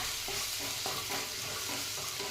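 Garlic sautés in a pan over full flame, crackling with a constant close sizzle and regular stirring strokes every fraction of a second, without any voices.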